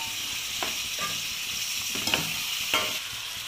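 Roughly chopped tomatoes go into a frying pan and sizzle steadily, with a few soft stirring scrapes and small taps over the continuous hiss, no voices.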